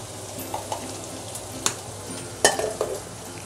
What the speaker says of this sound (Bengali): মশলাটা একটু সাঁতলি নিয়ে তবে শিমগুলো দেবো।